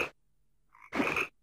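A frog croaks in a video game, first as a brief burst, then a short tonal chirp, then a louder, fuller croak lasting about half a second, heard alone with no talking.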